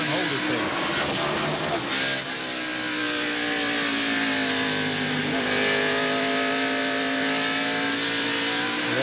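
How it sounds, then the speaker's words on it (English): A NASCAR race car engine at the 1991 Valleydale Meats 500, loud and continuous, its pitch rising and falling as the driver repeatedly lifts off and gets back on the throttle, with a steady roar throughout. "We hear Ernie on and off the throttle, on and off the throttle"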